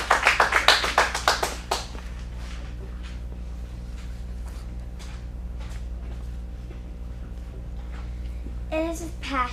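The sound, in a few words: audience applause for performer Maggie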